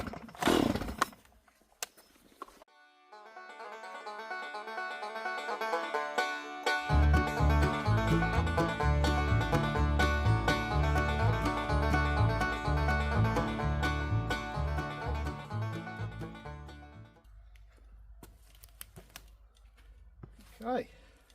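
A chainsaw cuts a fallen garden tree. A few knocks come first, then the saw revs up, roars loudly and steadily close by for about ten seconds, and winds down to idle.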